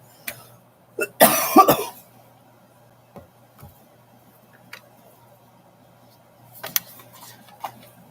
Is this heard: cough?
yes